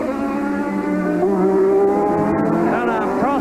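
A Formula One race car brakes hard into a corner at the Australian Grand Prix in Adelaide, its high engine note dropping and wavering as revs fall, loud and close for a few seconds, with a commentator talking over it.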